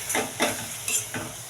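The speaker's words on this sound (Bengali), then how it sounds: "আমি ভালো করে মশলাটা কষে নেব।" Spice masala, mixed with leftover yogurt marinade for butter chicken, sizzles in a pan as it is sautéed, with four rhythmic stirring scrapes heard up close and no talking.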